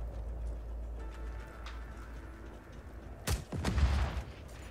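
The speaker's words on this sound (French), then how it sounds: "C'était le tir alternatif de ce fusil." Rifle alternate fire in Just Cause 4: after a quiet low hum, two sharp, loud shots crack in quick succession, followed by a short burst of ringing noise, with no talking.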